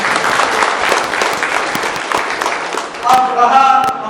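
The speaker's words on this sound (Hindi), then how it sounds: "इनके लिए जोरदार तालियां बजाएं" Loud, dense applause from an audience at a political gathering in Karnataka, steady for about three seconds before a voice cuts in briefly near the end.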